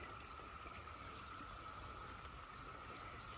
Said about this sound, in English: here's a creek right here.